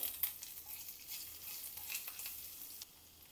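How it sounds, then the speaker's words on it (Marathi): Cumin, asafoetida and chopped ginger crackle faintly in hot oil, a soft steady sizzle with light stirring, quiet and alone. "तेल तापलं की त्यामध्ये ॲड करूया जिरं, ॲड करूया हिंग, ॲड करूया बारीक चिरलेलं आलं"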